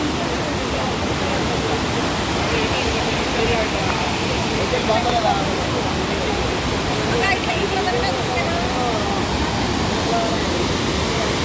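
Rushing water roars steadily and loudly at Courtallam waterfall, a dense continuous wash of noise, with a voice briefly heard over it.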